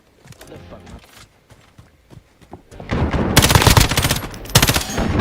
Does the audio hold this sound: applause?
no